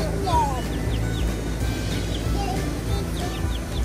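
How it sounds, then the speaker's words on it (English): Chickens cluck and chirp intermittently over a steady noisy background, with short bird calls scattered throughout. "Look at the chickens."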